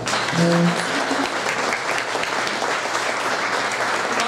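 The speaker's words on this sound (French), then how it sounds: "On peut les applaudir" An audience at a 2016 UQTR student association candidates' debate applauds steadily, a dense, even wash of clapping from a roomful of people lasting a few seconds, with a faint voice near the start.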